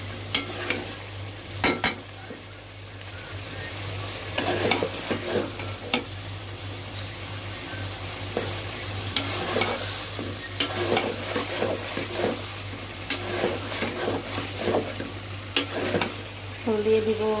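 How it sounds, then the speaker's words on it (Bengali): Chicken and potatoes are sautéed and stirred in oil, a steady soft sizzle under repeated scraping strokes of a utensil against the pan, close and continuous for the whole stretch. "খুব ভালো করে কষাইতে হবে। অলরেডি তেল ছেড়ে দিচ্ছে"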